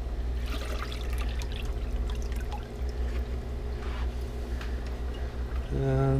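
Salt water for a rotifer culture poured back into a homemade saltwater bucket, a steady continuous trickle under a low hum, growing fuller near the end.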